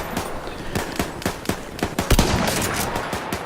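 Gunfire in the video game Battlefield 1, a run of loud, sharp shots in an uneven rhythm, several cracking off close together before a heavier blast near the end.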